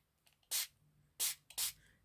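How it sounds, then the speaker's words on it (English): Mica spray paint in the shade Mystical Blue Moon hisses from a can in three short, close bursts, each about a quarter second long, separated by quiet pauses. "And then I'm changing to the mica spray, the mystical,"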